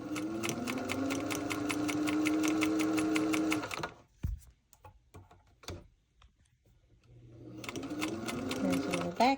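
A vintage Singer 201 sewing machine back stitching on a neckband, running steadily in a fast ticking rhythm for a few seconds, pausing amid soft handling noises, then starting up again close by.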